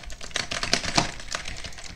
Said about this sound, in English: You guys hear that clicking? That mad clicking